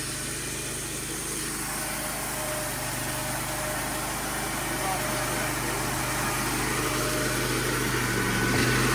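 A sawmill engine drones steadily while white oak is milled into fence boards, a constant close, loud running hum that holds level the whole time, with people talking over it.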